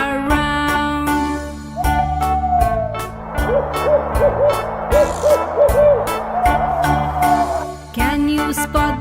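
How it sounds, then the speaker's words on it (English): An owl hoots in a series of wavering tones, set over a steady rhythmic musical backing with repeated beats throughout. "Hoot hoot says the owl on the tree."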